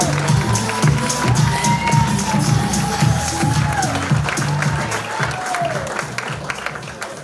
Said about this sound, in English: Bang your hands together, clap your hands, come on.